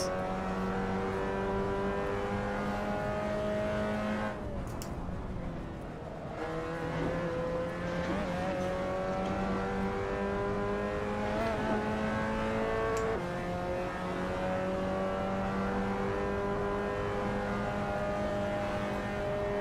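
A Mazda MX-5 races in the Assetto Corsa sim, its engine note rising and falling through gear changes and right-hand corners, loud and continuous with a short lift around the middle.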